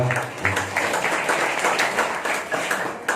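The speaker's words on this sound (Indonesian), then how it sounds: "Sekali lagi tepuk tangan untuk para narasumber kita." A forum audience applauds its speakers, with Cak Nun among the guests: a steady, dense wash of many hands clapping together at close range, holding evenly for a few seconds.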